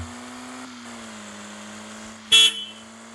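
A truck in Truck Simulator Ultimate gives one short, loud blast of its horn over a steady low engine drone, with the engine note continuing alone before and after.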